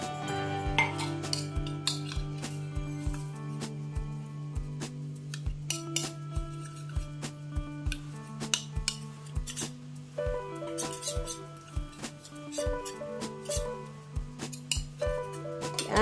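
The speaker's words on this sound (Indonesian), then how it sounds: "Diaduk sampai kemirinya betul-betul larut ya." A spoon clinks and scrapes against a glass or bowl while stirring ground candlenut mixed with water, a quick run of bright metallic taps and rattles, fairly close and unaccompanied by speech.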